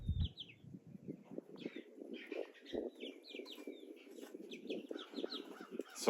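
A backyard flock of chickens, including an Easter egger hen, clucks and calls softly in scattered bursts, with higher squawks and chirps overlapping throughout at a low, moderately distant level.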